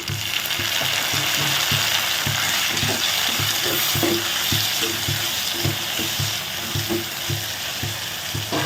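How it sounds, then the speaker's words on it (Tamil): Steady, loud sizzling of onions frying in oil for a potato dal curry, with regular clicking and scraping of a utensil stirring through the pan. "இந்த வெங்காயம் நல்லா வதங்கட்டும்"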